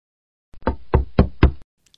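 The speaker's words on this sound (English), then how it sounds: "Oh, someone's knocking at the door." Four firm knocks on a door in steady rhythm, close and loud, with no voices around them, set in a home at breakfast time.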